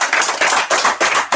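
Applause at a school prize ceremony, a dense, loud round of many hands clapping in close overlapping waves with no voices.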